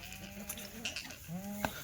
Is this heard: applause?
no